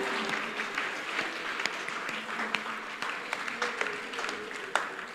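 Church congregation at a Sunday service applauding and cheering together, a steady bed of clapping with scattered sharp claps, moderately loud and continuous throughout.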